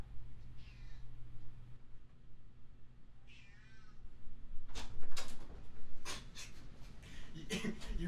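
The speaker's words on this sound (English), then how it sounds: "Your cat wanted in." A cat meows to be let in, two drawn-out meows about two seconds apart over a low indoor hum, followed by sharp knocks and clatters.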